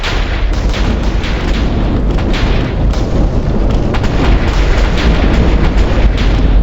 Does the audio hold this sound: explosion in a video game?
yes